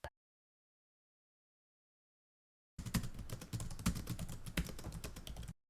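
A terminal command is typed on a Mac keyboard after a silent pause, with a quick, close run of light key clicks lasting a few seconds.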